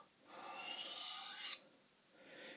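A light freehand stroke of a blade drawn across a round sharpening stone while setting a micro bevel, giving a quiet, smooth rasping hiss that lasts about a second and a half, then a fainter second pass.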